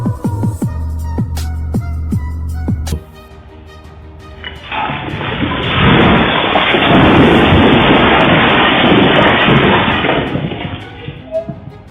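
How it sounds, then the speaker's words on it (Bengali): A loud crack of thunder from lightning striking a car, a sharp burst of bangs followed by a long heavy rumble with rain-like roar that swells and slowly fades. "একটি গাড়ির উপর হঠাৎ করে বজ্রপাত পড়ল"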